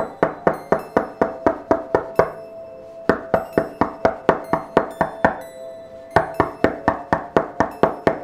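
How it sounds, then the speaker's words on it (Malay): Repeated knocking on a bedroom window for a horror story sound effect: sharp, evenly spaced raps in quick bursts with brief pauses between groups, loud and close with no voices. "Siapa yang ketuk tingkap bilik ni?"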